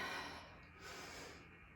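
Heavy, faint breaths during a back and ab workout: a rough exhale, then a second breathy gust a moment later, close to the microphone and with no talk.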